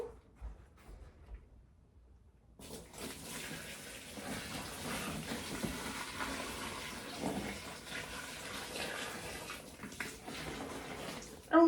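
A pot of water pours into a bathtub while clothes are dyed blue, a steady rushing splash that starts abruptly after a few quiet seconds and continues at moderate volume.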